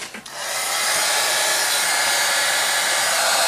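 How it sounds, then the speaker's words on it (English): A heat gun blows steadily over an altered steampunk canvas, a loud, close, continuous rushing hiss that starts after a brief click and runs without a break to the end. "right now I'm going to get my heat gun"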